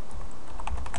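Quick typing on a computer keyboard, entering a file path into a Backtrack 4 R2 Autopsy forensics program, a steady run of close, crisp key clicks with no voices.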